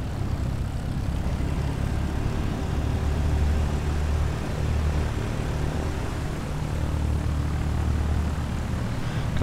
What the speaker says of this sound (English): A few private aircraft here,